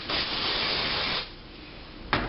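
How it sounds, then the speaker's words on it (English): A continuous hiss of aerosol brake cleaner sprayed onto a Ford Focus SPI cylinder head for about a second, then a pause and a brief second burst. "So now we're going to spray it down with some brake cleaner."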